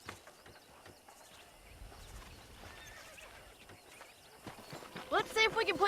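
Horse hooves clip-clopping at a steady gait in the video game Red Dead Redemption, ending in a loud, close whinny, with voices talking over the hoofbeats.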